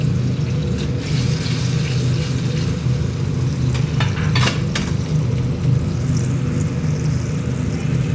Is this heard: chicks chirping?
no